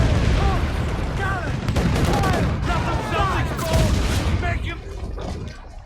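Mortar fire and cannon blasts in a naval battle in Assassin's Creed Black Flag boom repeatedly amid continuous rumbling explosions, with a voice talking over the din.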